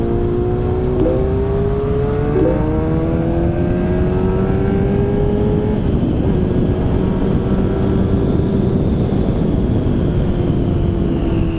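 Honda CBR600RR motorcycle engine droning loud and close throughout while riding, rising and falling in pitch as it revs, with steady wind rush over the helmet and no voices.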